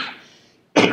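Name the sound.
cough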